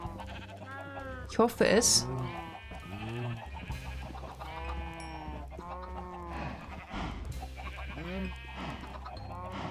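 Sheep bleat repeatedly on a farm, several wavering calls overlapping near and far, with what may be a chicken or goat among them, while a person speaks briefly over the animals.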